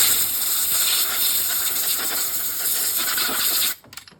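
Compressed air blown out of an oil cooler connector on a Jeep Trailhawk during an oil leak repair, a loud steady close hiss lasting several seconds, then cutting off into a few faint knocks.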